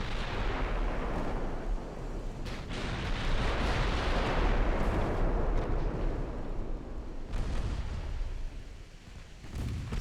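Naval artillery gunfire in the Ultimate Admiral Dreadnoughts game during a 1909 French campaign battle against light cruisers: heavy, rumbling broadside booms that build into a dense, sustained barrage, with a few sharper cracks standing out.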